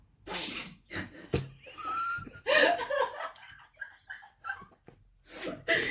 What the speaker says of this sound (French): C'était moi qui éternuais